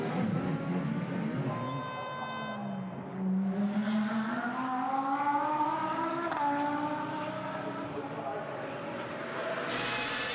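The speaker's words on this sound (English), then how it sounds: "So Bachler is away with the Porsche." A Porsche GT race car pulls away during a 2015 GT Masters race at the Red Bull Ring, its engine note climbing through rising gear sweeps with a shift, loud and close, under steady race commentary.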